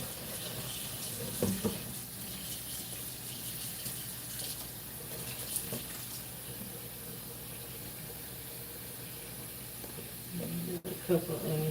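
Potatoes and onions being strained in a kitchen sink under running tap water, a steady close hiss of flowing water with occasional soft knocks and splashes throughout.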